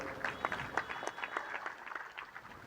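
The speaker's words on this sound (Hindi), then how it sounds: "एक बार उनके लिए जोरदार ताली बजाइए।" A crowd applauds at a devotional gathering, scattered claps forming a moderate, uneven patter that carries on steadily without any talk over it.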